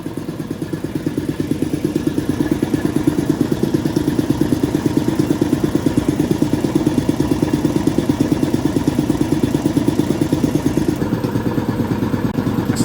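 A restored air compressor runs steadily with its valve closed, building pressure in a fast even chugging pulse that stays loud and close throughout, with no talking.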